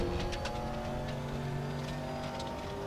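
A Callaway race car engine, recorded on track at a test session in Germany for the GTR3 video game, drones and hums steadily with a strong tonal growl at a moderate distance.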